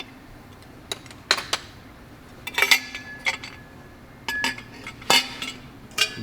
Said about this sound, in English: You just take your 9/16 wrench, snug them down.